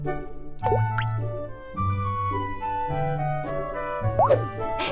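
Cartoon water droplets plop and drip in a quick series of bright, bouncy splashes over steady tonal background music in a Baby Panda hospital game, rinsing dust from a patient's eyes.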